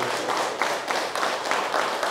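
Sustained applause from a gathered audience at a meditation event, a dense steady wash of many hands clapping with loose rhythmic surges, fairly loud and close, with no talking over it.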